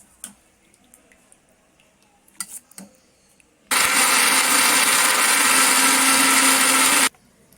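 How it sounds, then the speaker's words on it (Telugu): A kitchen mixer grinder blends cooked ingredients for paneer butter masala, a loud whirring roar that starts suddenly after a few light clicks and runs steadily for about three and a half seconds before cutting off. "ముందుగా ఉడికించుకున్నదంతా కూడా ఇలా మిక్సీ జార్లోకి వేసేసుకొని చల్లారిన తర్వాత మిక్సీ చేసేసుకోవాలి"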